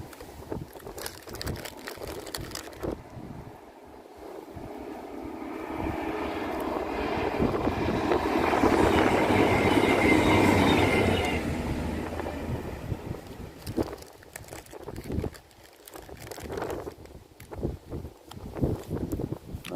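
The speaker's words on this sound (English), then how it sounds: "Yeah, we've got a train coming in." A train on the old Tanfield Railway near Tanfield Lea swells into a broad, rumbling roar from mid-distance, peaking and then fading back into wind and outdoor background.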